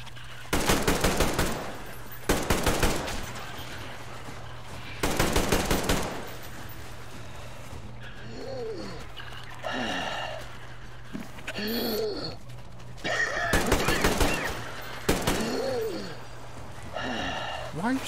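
Machine gun fire in the video game Metro comes in several loud, rapid bursts spread across the stretch, with heavy breathing and grunts in the quieter gaps between them.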